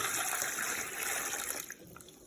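Water pours steadily into a container to fill it, a continuous hissing splash that stops abruptly near the end, leaving only faint drips and room tone.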